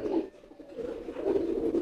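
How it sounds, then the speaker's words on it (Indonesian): A market-bought pigeon gives soft, low coos, a couple of brief murmuring calls close by against a quiet room. "Ini merpati dari pasar."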